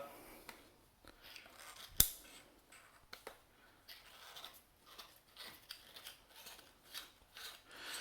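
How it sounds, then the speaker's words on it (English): Small metal clicks and ratcheting from unscrewing the suppressor off a PP2000 gas blowback airsoft SMG. The clicks are faint and close, with one sharp snap standing out among light scraping and handling noise, and no talking. "what I'm going to do now is I'm going to undo the suppressor"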